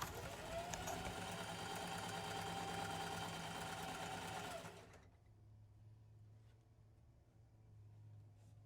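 A sewing machine stitches a waistband onto a circle skirt made from an old bed sheet, running fast and steady up close for about five seconds before stopping abruptly, leaving a faint low hum.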